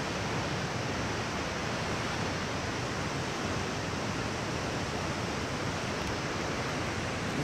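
Foster Falls waterfall heard from an overlook, a steady broadband rush of falling water that stays constant and even throughout, with no voices.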